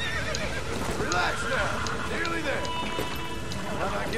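A burning horse in Red Dead Redemption: Undead Nightmare neighs several times in quick succession amid running hoofbeats, loud and close, while a voice talks over the busy game soundscape.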